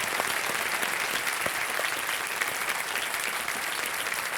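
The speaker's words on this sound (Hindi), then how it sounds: "एक बार तालियां बज जाएं खुशबू जी के लिए।" A studio audience on the quiz show KBC applauds a contestant, an even, continuous wash of clapping from many people, steady in loudness from start to finish.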